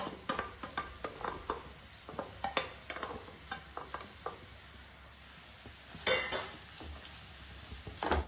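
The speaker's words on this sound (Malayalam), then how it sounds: "ചെറിയ ഗോൾഡൻ കളർ ആവുന്ന വരെ നമ്മൾ ഇളക്കി കൊടുക്കുക" A spatula stirs chopped onions sautéing in a pan, making a steady run of light clicks and scrapes against the metal with a faint sizzle, close and quiet, with no voices.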